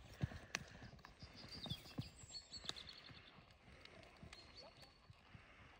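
A ridden horse's hooves clip-clop close by in a riding lesson, an uneven series of thuds on the ground, with a rider's or instructor's voice speaking over them.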